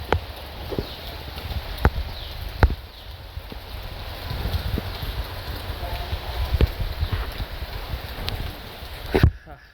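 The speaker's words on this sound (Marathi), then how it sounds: "बाहेर पाऊस चालू आहे" Steady monsoon rain falls outside in Kankavli village in a soft continuous hiss, with scattered heavier drips tapping now and then.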